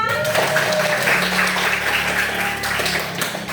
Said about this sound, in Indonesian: Ya, tepuk tangannya mana?